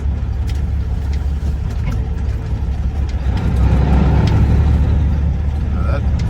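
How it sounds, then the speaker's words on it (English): A flatbed semi truck rolls along a farm road, its engine a steady low drone heard from the cab that swells louder midway, while someone talks over it. "Flatbed's going for a little ride down there."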